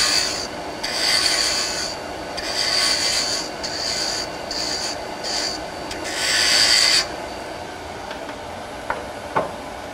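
A wood lathe turns a small spindle finial, the cutting tool rasping loudly against the spinning wood in long sustained passes with brief pauses, then a couple of light knocks.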